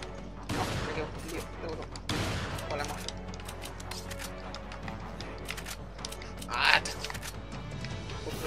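Gunfire in the Resident Evil 5 video game, with several sharp bursts and scattered shots over mechanical clicks and a game soundtrack, while a person talks over it.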